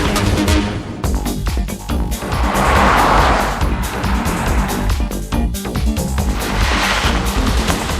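A Kia Amanti sedan driving on the road, engine and tire noise rising and falling as it moves through passes, loud and close, with a brief tire squeal and no one talking.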